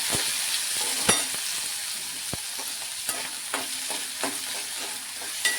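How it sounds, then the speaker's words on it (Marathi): Potato and green chillies stir-frying in hot oil, a continuous close sizzle punctuated by repeated light taps and scrapes of a spatula against the pan at irregular intervals. "तर आता मिरची थोडीशी भाजली की लगेच मी बटाटा टाकून घेते. आणि हा पण आपल्याला तेलामध्ये छान परतून घ्यायचा."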